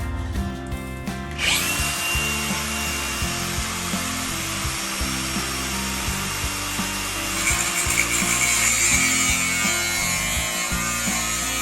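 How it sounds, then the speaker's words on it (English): A saw cuts through a metal closet shelf, a loud grinding rasp with a high ringing screech and a rhythmic low chug throughout, growing harsher toward the end. "Be sure to cut on the proper side of your line."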